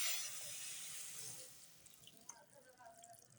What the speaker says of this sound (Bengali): এখন পানি দিয়ে দিলাম।